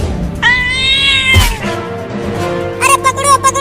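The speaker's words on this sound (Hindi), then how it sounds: "अरे पकड़ो पकड़ो, वो बिल्ली मेरा बड़ा आइसक्रीम लेकर भागने लगी।" Cartoon cat meowing in a drawn-out, high, wavering cry, followed by a thump and then a second shorter, rising meow near the end, loud and close.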